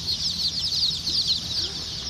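Newly hatched Mille Fleur bantam chicks peep steadily in a continuous, high, overlapping chorus, close and fairly loud with no talk.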